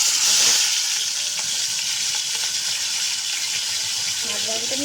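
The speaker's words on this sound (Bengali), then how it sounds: "ওই একই তেলে মাছটাকে আমি ভেজে নেবো।" Fish fries in oil already used for frying potatoes, giving a steady, dense sizzling hiss that stays constant and close throughout, with a faint burst of crackle at the start.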